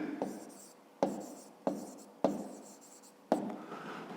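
Pen on paper, writing by hand while working a fifth-grade maths exercise: five short scratchy strokes, each starting with a sharp tap and fading over about half a second, close and quiet.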